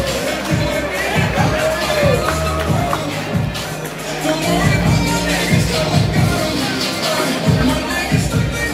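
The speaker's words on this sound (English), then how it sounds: "I need clapping for Gareth Prior" A boxing crowd claps for boxer Gareth Prior, with a steady patter of many hands and a general hubbub of voices around it.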